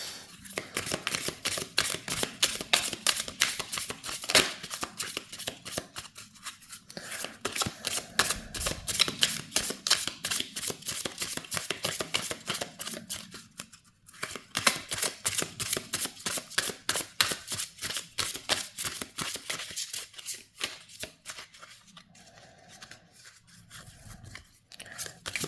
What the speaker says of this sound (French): Je vais quand même les rebattre un peu plus